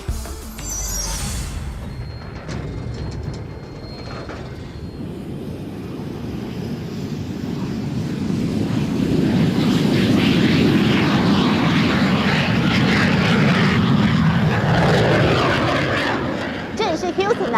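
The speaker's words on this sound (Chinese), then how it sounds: "现在它是 NASA 训练太空人飞机起降的地方" An aircraft engine drones at Ellington Airport in Houston, a NASA astronaut training airfield, growing louder and fuller midway as the plane nears, then easing slightly near the end, with a voice heard over it.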